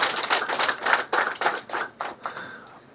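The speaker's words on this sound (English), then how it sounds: "First clap for the speaker." Audience applause greeting Ghana's Speaker Bagbin and Uganda's Anita Among, a close, lively round of clapping that rises and falls in bursts before tapering off.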